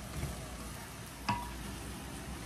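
Cecina beef and chopped onion sizzle steadily in a pan, with a brief scrape of stirring partway through and no voices.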